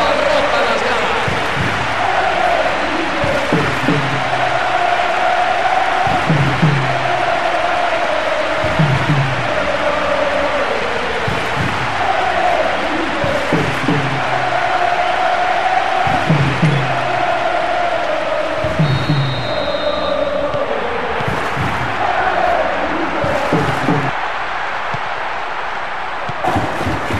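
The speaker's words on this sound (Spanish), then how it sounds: "El estadio entero aplaude el gol. La afición abarrota las gradas." A packed virtual football stadium in the video game PES 2015 roars and applauds after a goal, a steady wall of crowd noise with rhythmic swells, while a commentator speaks over it throughout.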